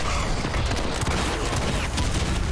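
Dense, continuous burst of gunfire in the video game Fallout 76, loud and rapid with overlapping shots and mechanical clatter across the whole stretch.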